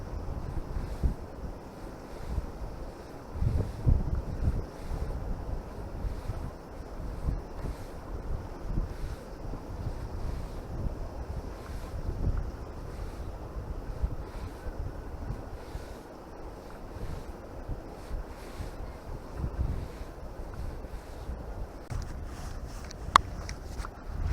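Strong wind buffets the microphone beside the Inhulets river during spinning fishing for pike, a steady loud roar with gusty low rumbling throughout and no voices.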